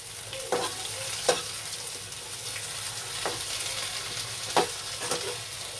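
Onion and potato frying together with black cumin tempering over high heat, a steady close sizzle with a few sharp spatula scrapes against the pan, no talking.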